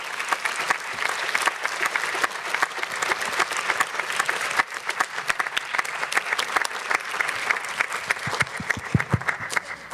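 An audience claps at the end of a talk about Hawaiian corals, a dense and sustained round of applause with no voices over it.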